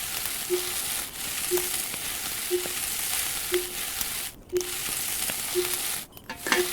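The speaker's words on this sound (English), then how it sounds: "you hear that, that skillet sound" A skillet sizzles steadily while cooking in a survival video game, a constant frying hiss with faint regular ticks about once per second and a couple of brief dropouts.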